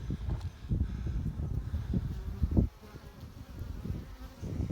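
Steady buzzing of honey bees hovering close by, a dense continuous hum with small swells as individual insects pass near.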